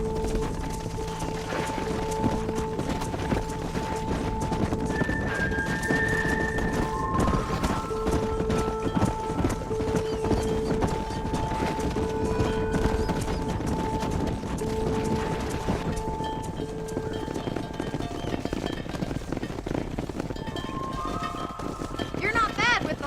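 Horse hooves clip-clop steadily in the Red Dead Redemption video game during a cattle-herding ride, with wind, a music bed and sparse game sounds around them.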